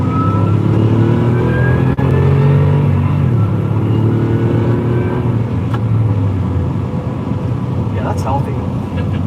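A Dodge Charger's 5.7-litre V8 revs loudly while accelerating, its steady deep drone rising and falling in pitch as it pulls through the gears, with a brief sharp click early on.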